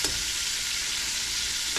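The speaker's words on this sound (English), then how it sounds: "we got our crappie fillets frying" Crappie fillets fry in a hot skillet, giving a steady, loud, close sizzle with no talk over it.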